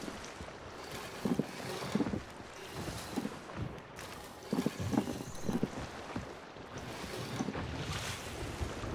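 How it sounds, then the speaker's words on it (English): Sailing a ship in a pirate video game: steady wind and sea-wash noise with waves sloshing against the hull, moderately loud and continuous, with no talking. "I hate sailing in this game."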